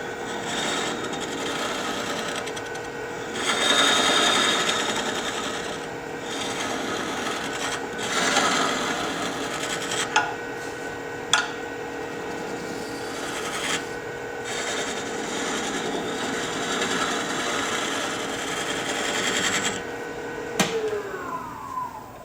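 Ring tool cutting into spinning end-grain wood on a lathe, working in toward the center; a steady scraping rasp runs throughout with a few sharp ticks and knocks, up close and without talk.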